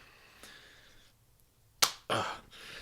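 A couple of sharp hand claps ring out close by on a podcast after a near-silent pause, the second following quickly on the first.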